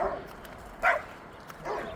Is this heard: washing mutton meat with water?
no